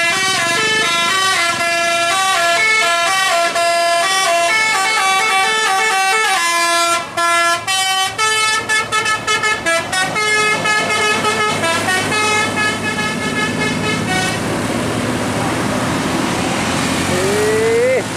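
Indonesian tour buses sounding their telolet musical horns, loud repeated melodic tooting phrases near at hand with busy bursts and pauses, then fading into engine noise and crowd voices toward the end.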